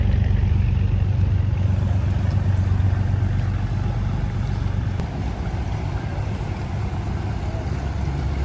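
Boat engines on the Alleppey backwater lake in Kerala make a continuous low rumbling drone, steady and fairly loud, mixed with a wash of wind noise. No one speaks.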